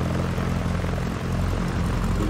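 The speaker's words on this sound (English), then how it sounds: "Okay, so we're in our plane here." A propeller aircraft engine in the X-Plane 11 flight simulator, a loud, steady droning roar heard close with no break and no voices.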